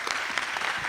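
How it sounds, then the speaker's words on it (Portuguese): Audience applause for Sofia Teles at an event, a dense continuous patter of many hands clapping, steady and fairly loud throughout. "Muitas salvas de palmas aqui para a Sofia Teles"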